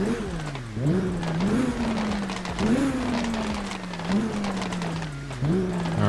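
A 2022 Lamborghini Countach LPI 800-4 twin-turbo car in GTA 5 revs and drives, its engine note rising and dropping through repeated gear shifts at moderate loudness, with faint game sounds around it.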